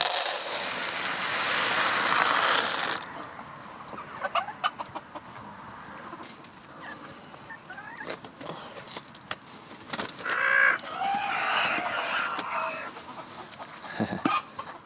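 New chickens added to a flock cluck and murmur softly near and far, with a burst of rustling and flapping at the start and clucks scattered over soft yard sounds.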